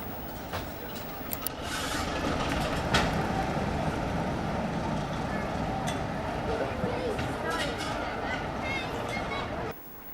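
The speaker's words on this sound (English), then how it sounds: "as we watch the train once more start on its way back to Shackerstone" Heritage steam locomotive train departing on the Battlefield Line, a steady rumbling and rolling sound with occasional clanks and hisses, heard at moderate distance beneath talk.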